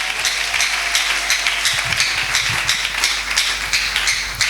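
A church congregation applauding, steady rhythmic clapping from many hands with soft pulsing accents, moderately near and with no talk over it.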